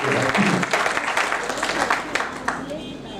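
An audience at a Holi comedy poetry gathering applauds steadily, the dense clapping fading slightly toward the end.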